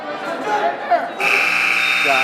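A period-ending buzzer at a junior high and varsity high school wrestling match sounds a loud, steady electronic tone partway through, cutting in over commentary and gym crowd noise.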